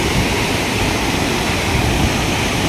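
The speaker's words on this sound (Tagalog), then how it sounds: "grabe din talaga yung lakas ng falls" Bomod-ok Falls thundering nearby, a loud, dense and unbroken roar of powerful rushing water filling the whole scene.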